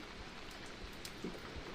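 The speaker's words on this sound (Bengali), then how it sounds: "এই বৃষ্টি পড়ছে" Light rain falling steadily on a rooftop vegetable garden with bitter gourd plants, a soft, quiet patter with occasional individual drops standing out.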